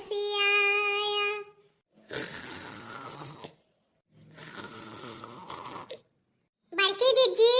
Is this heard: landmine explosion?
no